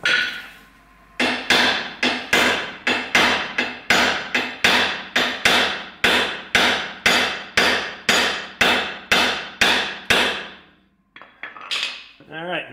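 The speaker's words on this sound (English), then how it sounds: "let's take a little whack at it with the hammer" A hammer repeatedly striking a stuck metal part, about twenty loud, ringing blows in a steady rhythm, close by, followed by a brief clatter.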